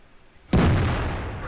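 A tank cannon fires in World of Tanks, one sudden loud blast that rolls on into a long, heavy rumbling decay, close and dominant.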